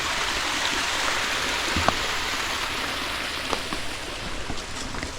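Water flows down over rocks in a steady, full rushing wash, with a few faint clicks and knocks breaking through the constant noise.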